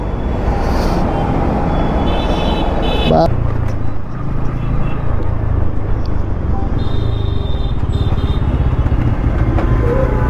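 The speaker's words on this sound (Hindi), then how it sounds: "क्या जाम लगा हुआ है यहाँ पे" Congested road traffic with motorcycles and cars idling and revving close by, a steady dense rumble with horn-like tones and passing engines throughout, under speech.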